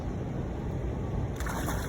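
Water churning and splashing as a net packed with fish, carp among them, is hauled in, a dense, continuous rushing slosh close by, fairly loud, with no voices over it.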